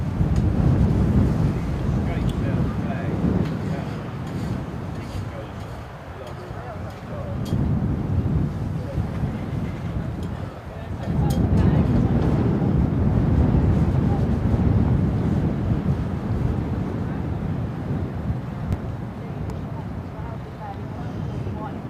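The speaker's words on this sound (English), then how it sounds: "See the wind's blowing it around everywhere." Strong wind at RAF Lakenheath buffets the microphone in a continuous, loud, low rumble that surges and eases in gusts.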